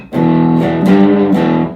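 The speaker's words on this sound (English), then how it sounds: "you actually hear a little bit of the distortion coming through" Electric guitar played through an overdrive pedal, giving a loud, sustained distorted rock riff of three chord hits ringing together with gritty edge, close and alone.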